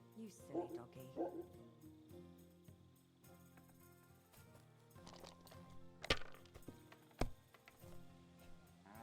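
In the medieval role-playing game Kingdom Come: Deliverance II, a dog gives a few short barks close by, followed by sharp knocks and quiet ambience while a person talks.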